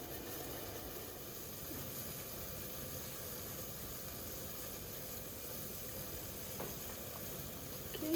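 A steady, even bubbling hiss of water boiling with dumplings in a pan, constant and moderately quiet, with no voices.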